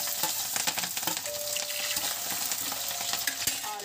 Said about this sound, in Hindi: अब हम इसमें डालेंगे प्याज और हरी मिर्च